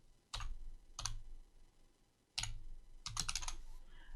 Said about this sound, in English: hit the caps lock key and type it in again